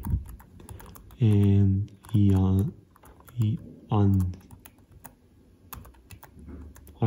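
Keyboard typing while filling in a crossword puzzle game on a Windows CE device, a steady run of quick, close clicks heard beneath a person talking.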